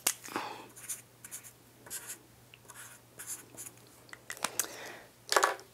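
A pen or marker scratching short squiggles and strokes on paper for a Mother's Day butterfly craft, close and quiet, in irregular bursts with brief pauses between strokes.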